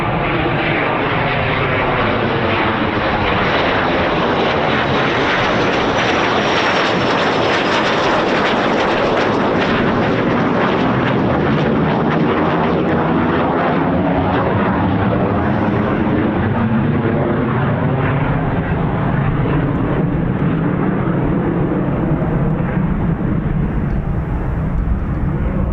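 Loud, continuous roar of aircraft passing at an air show featuring a Eurofighter Typhoon FGR4, Me 262, P-51 and Spitfire, the engine noise swelling and sweeping across the full length with no voices.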